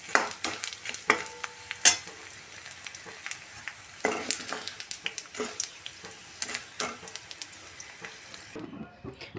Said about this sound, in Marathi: आता कढईत थोडंसं तूप टाकून आपण लाह्या तळून घेऊयात, डिंक तळून घेऊयात